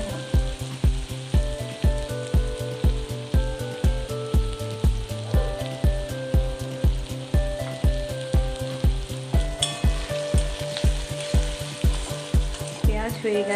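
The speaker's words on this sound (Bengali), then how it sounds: "পেঁয়াজটা একটু ভাজা ভাজা হবে।" Onion sizzling in hot oil in a pan for a bhindi tomato gravy, heard close and steady, with evenly spaced stirring strokes scraping along the pan.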